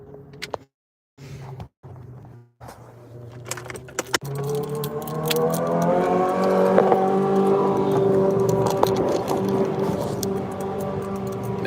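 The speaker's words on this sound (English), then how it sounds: "That is a very awesome sounding bike." A motorcycle engine rises from the distance and grows louder, its throaty tone building and swelling as it passes near, after a stretch of clicks and quiet cabin noise.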